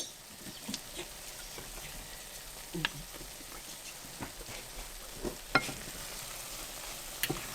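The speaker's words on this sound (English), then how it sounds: "Putting all spices in, mixing up to get it fragrant." Spices for shakshuka sauté in a pan, a soft, close sizzle broken by light scraping and tapping as they are stirred around.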